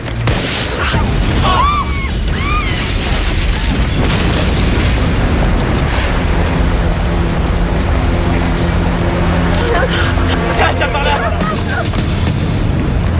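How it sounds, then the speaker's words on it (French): A parked vehicle explodes in a French-dubbed thriller, a loud sustained boom and rumbling blast filling the scene, with dramatic film score and brief voices over the noise. "Nuage de fumée suite à l'explosion d'un véhicule en stationnement."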